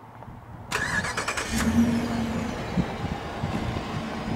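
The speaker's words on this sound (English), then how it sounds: "Just basically hit lock and hit the remote start button twice." A 2013 Dodge Durango R/T engine cranks and fires up by remote start, then settles into a steady close idle rumble with no talk.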